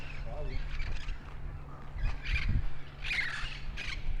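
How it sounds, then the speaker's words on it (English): Wild parrots in the San Gabriel Valley squawk in several harsh, scattered calls, moderately near, over low background rumble and a faint voice. "I wonder if you could hear the parrots on it."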